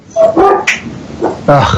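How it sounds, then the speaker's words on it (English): A dog barks as someone enters the house, a few short close barks and yips coming in bursts with a brief whine between them. "The dog. Somebody's coming into the house."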